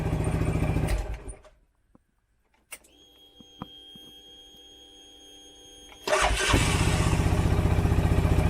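Z Force Moto Z6 riding mower engine with a throttle that sticks open and a low idle, running loud and steady, cutting out into near silence with faint clicks and a hum, then restarting and running loudly again.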